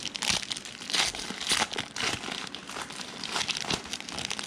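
Foil packs of 2019 Panini Prizm baseball cards are torn open one after another, a loud, busy stream of crinkling and ripping foil close to the microphone with no talking.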